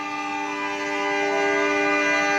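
Departure horn of the Sawung Galih train at Kutoarjo station: one long, steady, harmonically rich blast that holds for the whole stretch and swells slightly louder toward the end, with no voices.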